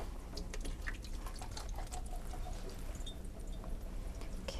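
Drained canned beans are rinsed under running sink water, a steady close splashing hiss with scattered drips and trickles throughout, without any talking.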